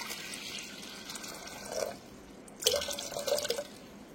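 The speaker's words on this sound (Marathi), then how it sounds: "थोडंसं पाणी टाकायचं याच्यामध्ये" A little water pours into an electric juicer jar, a brief trickle followed by a longer splashing pour at close range in a quiet kitchen.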